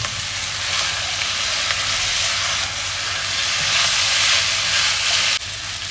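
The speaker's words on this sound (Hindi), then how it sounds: "अब इसमें हम जो है अपनी स्पैगेटी नूडल ऐड करेंगे और अच्छे से इसको जो है हम मिक्स करेंगे" Spaghetti noodles are tossed in a hot pan for chow mein, producing a loud, continuous hissing sizzle up close that swells slightly before cutting off near the end, with no speech.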